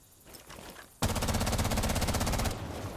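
An F2 rifle fitted with an extended barrel fires a rapid full-auto burst in Rainbow Six Siege, giving about a second and a half of dense, evenly spaced shots after a brief quiet lead-in.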